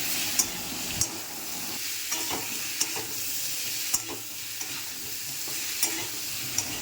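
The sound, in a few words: stirring ginger, cumin and chilli paste frying in pan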